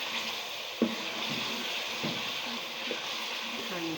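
Beef pieces frying in a karahi, a steady hissing sizzle with occasional soft clinks and stirring knocks, fairly close and without speech.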